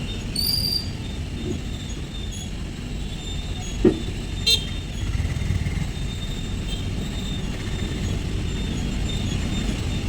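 Vehicles at a busy road junction on MC Road at Perumbavoor make a continuous rumble, with a horn toot early on and a sharp knock near the middle, all without speech.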